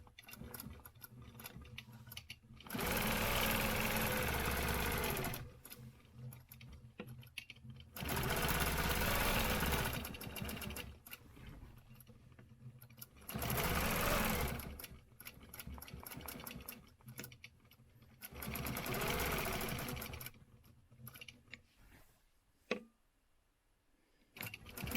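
A sewing machine stitches a stencil design in repeated bursts of steady, whirring mechanical running, separated by short quiet pauses, close and moderately loud, with no speech.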